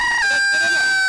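A Serama rooster crows at a busy chicken market, a short, bright, loud crow sustained through about a second and heard close up.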